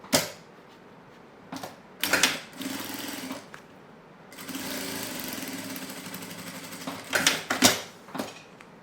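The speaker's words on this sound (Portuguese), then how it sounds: "E vou costurar." Sewing machine stitching fabric for a small zippered pouch, running in short bursts: brief whirring spurts with clicks, then a steadier humming run of several seconds, close and without talk.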